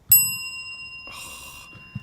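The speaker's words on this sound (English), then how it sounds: "But that bell sounded really bad." A bell at a cars-and-coffee gathering gives one sharp ring followed by a harsh, buzzy second ring, near and clear with faint background noise.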